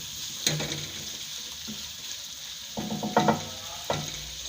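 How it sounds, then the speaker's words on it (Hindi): Turnips frying in spice masala in a pan, a soft sizzle broken by a few sharp scraping and stirring clatters of a utensil against the pan. "और इसको जो शलजम है 2 से 3 मिनट के लिए इसको फ्राई करेंगे।"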